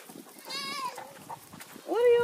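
Goats on a farm bleat a couple of times at close range, a wavering cry early and another rising call near the end, with a person talking over them.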